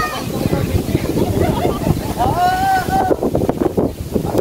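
Steady wind rushing and buffeting across a microphone outdoors in a riverside park at a watersports complex in Camarines Sur, with a person talking throughout and a brief tonal squeal partway.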